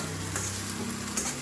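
Tomatoes fry and sizzle in a pan with onion and ginger-garlic paste, with a steady close crackle and a couple of soft stirring scrapes, no voices.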